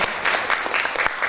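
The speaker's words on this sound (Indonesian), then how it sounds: "saya bilang, tepuk tangan dulu Mas Hussein." Audience applause at a seminar event, a steady burst of clapping from a crowd with no talk over it.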